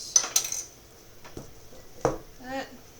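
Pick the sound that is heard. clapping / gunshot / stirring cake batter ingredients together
stirring cake batter ingredients together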